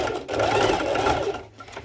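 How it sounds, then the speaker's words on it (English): A home sewing machine running a straight stitch through fabric for a garment top, a steady close mechanical whirring that holds for about two seconds before briefly easing near the end. "normal sew machine, and I'm going to give a straight stitch, or you can just give a zigzag stitch"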